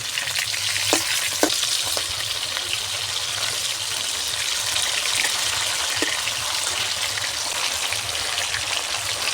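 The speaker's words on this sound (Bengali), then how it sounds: "দেখো মাছগুলোকে এবার উল্টে দেবো।" Tengra fish fry in hot oil in a pan, a loud, continuous close sizzle with a few sharp clicks and scrapes as the fish are turned over.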